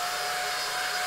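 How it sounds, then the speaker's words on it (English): A steady, loud supersonic hair dryer blows with a constant high whine over a rushing hiss, unchanging throughout. "There's a supersonic dryer."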